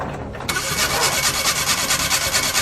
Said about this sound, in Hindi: इतनी आवाजें क्यों कर रहा है इंजन?